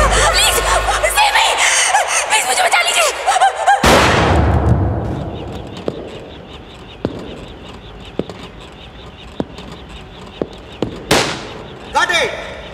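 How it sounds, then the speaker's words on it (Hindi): Gunshots in a Hindi film scene: a loud burst with a heavy boom around four seconds, then a string of sharp single cracks spaced apart, with voices and laughter mixed in around them. "गुड शॉट समी साहब।"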